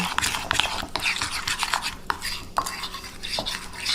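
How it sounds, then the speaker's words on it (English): Spoon stirring powder into oil in a small container for homemade all-natural deodorant, with repeated scraping and clinking strokes in an uneven rhythm, close and fairly clear, with no talk. "We're just making sure all that powder is mixed into the oil"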